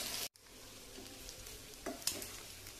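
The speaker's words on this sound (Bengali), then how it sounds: "এটাকে আমি খুব ভালো করে একটু নেড়ে চেড়ে নেব, যেন আমার সবগুলো মাংস চার ধার থেকে ভালো করে কালো হয়ে যায়, ভাজা ভাজা হয়ে যায়" Boiled beef fries for Chittagong-style kala bhuna with a quiet, continuous sizzle in the pan, while soft scrapes and a brief clink from stirring come through after a short dropout at the start.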